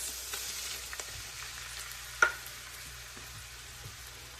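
Browned hamburger meat sizzling in a pot after soy sauce is added, a steady soft frying hiss with a faint stir or clink near the middle.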